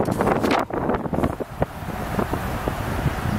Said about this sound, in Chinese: 哎呀今天风很大呀